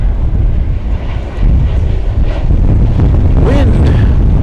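Gusty wind buffets the microphone at DFW airport in a low, rumbling rush that surges and eases, with a brief faint whistle-like tone near the end.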